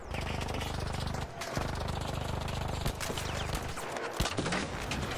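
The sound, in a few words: gunfire shooting an ARC's leg in video game Arc Raiders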